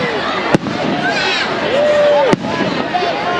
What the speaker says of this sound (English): Them fireworks are going.